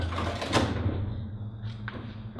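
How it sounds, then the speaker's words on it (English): A large, heavy industrial door grinding and rumbling as it moves, with a low steady hum and a clank partway through, close and fairly loud, no talking. "It's a very industrial door."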